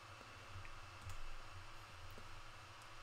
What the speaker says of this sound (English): I'm typing in version 2